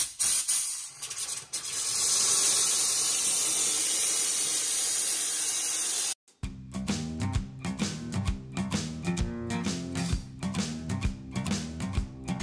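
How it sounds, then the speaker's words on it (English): A small Wagner steam cleaner, used on a Buick 3.8L V6 turbo engine, hisses loudly and steadily for about six seconds, then cuts off abruptly before music takes over. "I got my little Wagner steam cleaner, and yeah, we're gonna give it a go"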